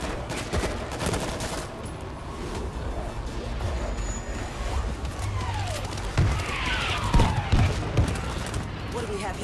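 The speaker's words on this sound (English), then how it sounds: "They're bombing the street!" Explosions and rapid gunfire on a street in the World War Z video game: a dense barrage of blasts and bursts over a rumbling background, with swooping whistles near the end.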